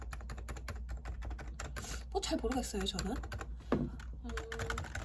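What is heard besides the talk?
typing on a Realforce Topre (electrostatic capacitive) keyboard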